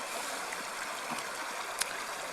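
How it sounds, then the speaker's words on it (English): A river runs over slippery rocks at a stepping-stone crossing in wet winter weather in Scotland, giving a steady close broadband rush with a small splash near the end and no talk. "The dangerous river crossing."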